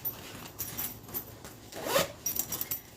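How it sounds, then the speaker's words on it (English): A zipper pocket on a quilted bag is pulled open in a few quick rasping runs, close and fairly loud, with short pauses between pulls and no talking. "We're going to open up our zipper pocket"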